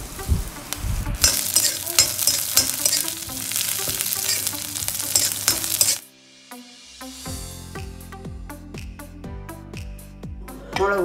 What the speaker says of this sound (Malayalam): ഇനി അതിൽ കുറച്ച് എണ്ണയും കൂടി ഒഴിച്ചിട്ട് വെളുത്തുള്ളി, ഇഞ്ചി, പച്ചമുളക്